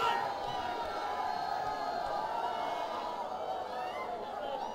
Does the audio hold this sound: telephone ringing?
no